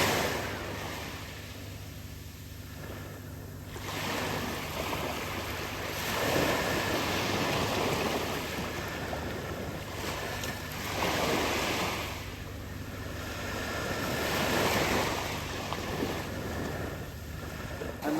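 Ocean waves surge and recede in slow swells at sea while wind rushes steadily across the microphone, with no voices.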